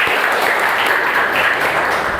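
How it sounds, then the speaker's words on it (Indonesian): Steady, dense applause from a lecture audience at a university teaching session, a loud continuous wash of clapping hands with no talk over it. "Beri tepuk tangan dulu."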